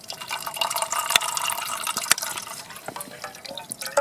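Water is poured and strained at a solo campsite, with a trickling, splashing flow and a few sharp drips and clinks, fairly close and without talk.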